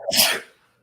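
A single sharp sneeze, close and loud, bursting out and then trailing off into quiet.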